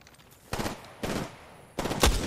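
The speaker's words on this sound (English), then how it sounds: "Firing." Gunfire in the Apex Legends video game comes in three short, sharp bursts of rapid shots, the last burst loudest and punchiest, with brief quieter gaps between them.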